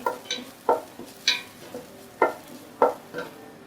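A metal utensil scraping and tapping against a pan as garlic cooks, a series of distinct, close clinks and scrapes at an uneven steady pace, with no talking.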